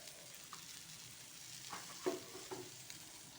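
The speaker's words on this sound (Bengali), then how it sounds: "কুঁদরি, চিংড়ি মাছ, পেঁপে, আলু সব একসঙ্গে কষে নিচ্ছি।" Ivy gourd, prawns, papaya and potatoes sauté together in a pan, a faint low sizzle with a few soft stirring scrapes and taps.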